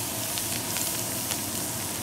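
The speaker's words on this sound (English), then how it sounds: "You're going to allow that flour to cook like you would when you're making a gravy," Flour and corn fry in a hot skillet with a constant close sizzle and crackle, loud and even, with occasional faint pops and no talk.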